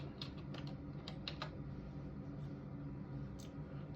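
A handful of quick keystrokes tap on a computer keyboard as a page number is entered, small clustered clicks over a low steady hum, then one last faint tap after a pause.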